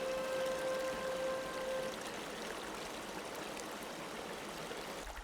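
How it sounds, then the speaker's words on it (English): Creek water spills over a rock ledge into a small pool, a continuous close trickling and splashing in a woodland setting, alone with no voices. "The water spilling out from the rocks that make up the ledge of a little pool provide yet another unique sound"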